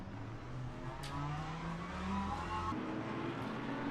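A race car in the Le Mans Ultimate racing game running over a kerb: a continuous engine note with gliding pitch and a rough, buzzing texture, then an abrupt drop near the end.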